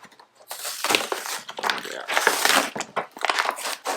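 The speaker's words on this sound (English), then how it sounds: "All right, I'm gonna tear this thing open." Packaging for a lunchbox locker part is ripped open up close, giving a series of loud crinkling, tearing bursts of plastic with short pauses between them.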